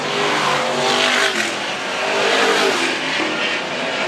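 Stock cars race at Arlington Stadium, engines roaring close and loud with tyre scrub and contact, a continuous dense racket with no speech over it.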